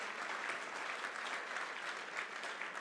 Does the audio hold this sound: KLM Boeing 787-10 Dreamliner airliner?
no